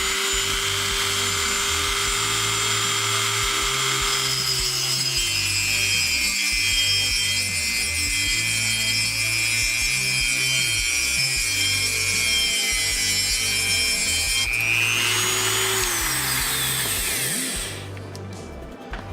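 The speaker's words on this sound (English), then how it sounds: "We'll take a Dremel." A Dremel rotary tool cuts through a steel bolt clamped in a vise, a loud sustained high-pitched grinding whine with a steady rough buzz that holds for about fifteen seconds, then winds down as the cut finishes.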